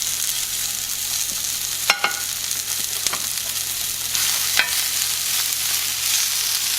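Chicken fajita ingredients sizzle and fry in a hot pan, a steady broadband hiss with a few sharp pops and stir clatters, close and continuous with no talking.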